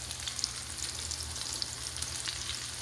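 Redfish sizzles and fries steadily in a hot pan, a dense continuous crackle with small pops scattered throughout, close and moderately loud with no voices.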